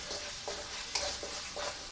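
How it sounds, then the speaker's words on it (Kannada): Masala poha seasoning fries in oil with turmeric and salt, a soft steady sizzle broken by a few light stirring scrapes, close but quiet and brief, with no talking. "5 ನಿಮಿಷ ನಾನು ಎಣ್ಣೆಯಲ್ಲಿ ಚೆನ್ನಾಗಿ ಇದನ್ನು ಫ್ರೈ ಮಾಡ್ಕೊಂಡಿದ್ದೀನಿ"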